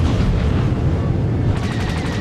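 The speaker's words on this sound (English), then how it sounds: "Concussion missile." A concussion missile launched in the Star Wars: The Old Republic space combat game, heard as a loud, dense rumbling blast with a rough roar throughout and a faint fluttering rise near the end, no voices.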